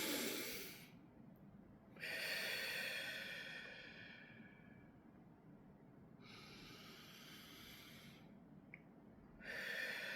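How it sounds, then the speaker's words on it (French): Three slow, deep breaths are taken during a tapping exercise, each a long, soft, close airy inhale or exhale separated by quiet pauses, with no speech. "Là, on va faire 3 respirations."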